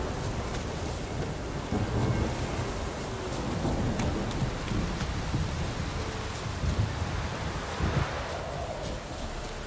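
A thunderstorm in The Witcher 3: steady heavy rain hiss with rolling thunder rumbles swelling and receding, continuous and fairly loud with no voices.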